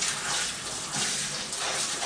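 Cold tap water runs steadily over peppers and onions in a colander, a continuous close hiss and splash of rinsing that fills the whole moment with no voices.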